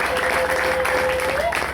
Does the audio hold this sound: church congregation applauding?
yes